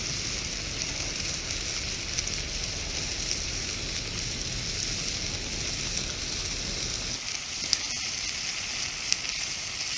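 Steady sizzling of food browning in a pan at a beach campsite in Scotland, a continuous crackling hiss that quiets slightly near the end, with no voices.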